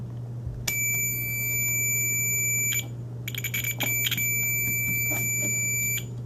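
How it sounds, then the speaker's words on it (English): A multimeter in continuity mode gives a steady high-pitched beep, cutting out briefly for about half a second before resuming, with crackling clicks and a low hum underneath. "I'll put it in beep mode so that you can hear if it breaks the circuit"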